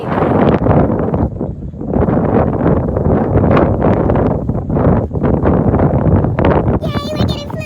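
Strong gusts buffet the microphone by the water, a loud roaring rumble that swells and eases in waves, with voices talking briefly near the end.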